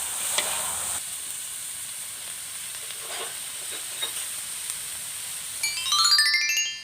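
Pork belly, mild chilies and spring onions stir-frying in a pan, a steady close sizzle with a few soft stirring knocks, ending in a brief rising whistle-like tone.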